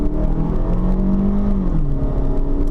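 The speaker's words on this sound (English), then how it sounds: "Let's test out the acceleration here." A 2013 Toyota RAV4 XLE AWD compact SUV with a 179-horsepower engine pulls away under steady acceleration, its engine note climbing smoothly and loud from inside the cabin, with no talk over it.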